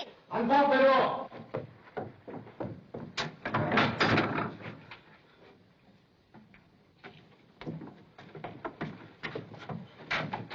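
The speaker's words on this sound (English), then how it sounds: "Unbolt the door." A door is unbolted and opened in a 1936 mystery film set at a circus, giving clacks and knocks of wood and metal among several voices talking, with a quieter stretch midway before more clicks and speech.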